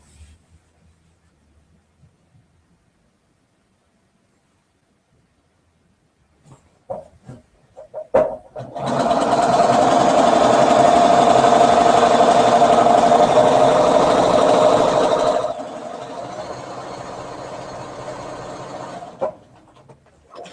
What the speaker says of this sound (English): Take the top and the bottom. Sew them together.